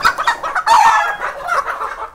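A chicken held for an R2B vaccination clucks loudly and close by, giving a quick series of agitated squawking clucks with a sharper cry near the middle.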